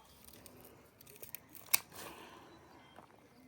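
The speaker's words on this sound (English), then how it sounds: "Let me trim this whole tree down." Scissors snip through the branches of a basil plant that has begun to flower. A few soft cuts build to one sharp, distinct snip near the middle, then the background goes quiet.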